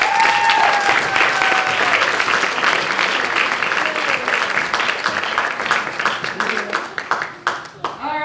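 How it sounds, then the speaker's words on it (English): Loud, sustained applause from an audience at a stand-up comedy showcase in Kansas City, dense clapping that fills the room and gradually thins toward the end. "Give a round of applause to everyone you've seen."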